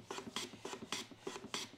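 Hand plane shaving wood on a wooden shooting board, six even rasping strokes in steady rhythm, each a short scraping push with brief pauses between, close and fairly quiet with no voices.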